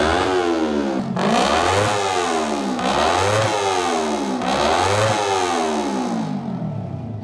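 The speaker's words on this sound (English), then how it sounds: "Not to mention the beautiful sound of the twin cylinder engine." Kawasaki Ninja 250R twin-cylinder motorcycle engine revs loudly and repeatedly, each climb in pitch dropping away before the next, four or so rising sweeps in a steady rhythm with no talk.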